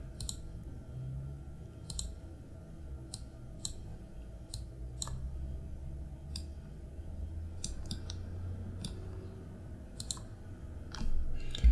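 Scattered computer keyboard clicks, quick and fairly faint, come in small irregular bursts over a low room hum, with no voices.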